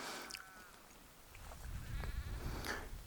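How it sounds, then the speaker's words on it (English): Cows coming down to feed beside an evening campsite, giving several short, harmonic bleat-like calls at close to middle distance over a low, steady rumble, with no talking. "cow population has decided to come down and have their dinner while I'm trying to have my dinner."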